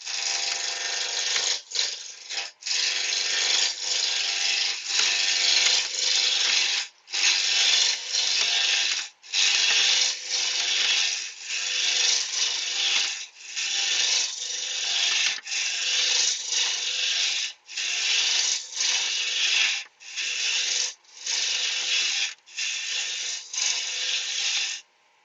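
Wood turns on a lathe spinning at 1400 RPM while a tool rubs and scrapes the surface, giving a loud, dry, rasping hiss in long bursts broken by brief pauses as the tool lifts away.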